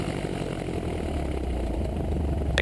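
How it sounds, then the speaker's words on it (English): A light aircraft piston engine idles during a ground run-up with carburetor heat on, a loud, steady low rumble with a faint uneven throb, running alone without speech and a brief click near the end. "Make sure the engine doesn't cut out at idle with carb heat."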